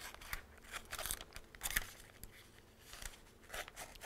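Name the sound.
scissors cutting a thin strip of fabric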